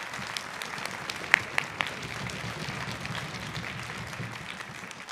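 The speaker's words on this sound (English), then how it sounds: "give him a big round of applause" An audience at a middle school orchestra concert gives a big round of applause, steady moderate clapping with a few sharper claps standing out near the start.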